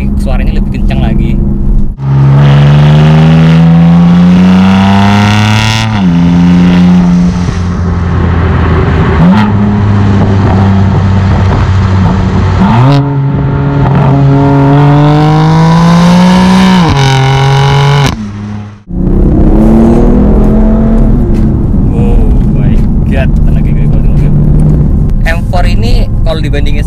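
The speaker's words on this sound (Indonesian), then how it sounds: "Exhaust dari mobil ini itu udah yang FM exhaust, jadi suaranya lebih kencang lagi." A BMW M4 Competition fitted with an aftermarket FM exhaust revs hard and loud, its pitch climbing and dropping through several long pulls. There is a brief cut before the engine settles into a steadier drone, and talk may run underneath.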